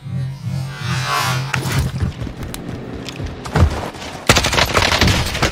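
Rapid bursts of automatic gunfire and booms from the video game Call of Duty: Warzone, loud and dense, with a steady low hum early on and sharp volleys returning near the end.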